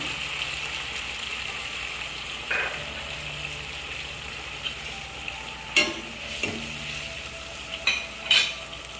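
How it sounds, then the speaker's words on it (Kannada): Tamarind water goes into frying rice for temple-style puliyogare, a steady close sizzle with a few scraping stirs of the spoon against the pan. "ಆ ವಾಟರ್ ಜೊತೆ ಒಂದು ಸ್ವಲ್ಪ ಹುಣಸೆಹಣ್ಣು, ವೆರಿ ಲಿಕ್ವಿಡ್ ಹುಣಸೆಹಣ್ಣು ಹಾಕಿ"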